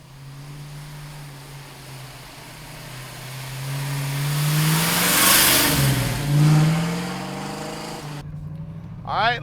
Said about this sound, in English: All right, let's go for a ride in the 71 Boss.